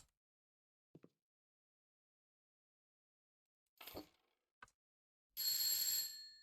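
A doorbell in an apartment-building video game rings once in a short burst of bright, ringing tones, with a few brief clicks and soft taps beforehand.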